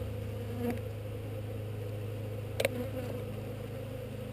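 Honey bees drone in a steady, low buzz during a honey harvest, a close, continuous hum with two brief clicks of handling over it.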